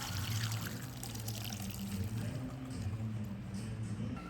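Boiled lentils being drained from their cooking water, a steady pouring trickle of liquid running continuously and fairly close, with a low murmur underneath and no voices.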